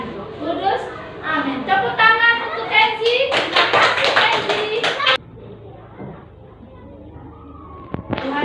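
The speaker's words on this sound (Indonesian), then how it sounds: "Tepuk tangan untuk Kenzi" Children in a classroom burst into a few seconds of lively applause after a teacher speaks, and quieter chatter follows.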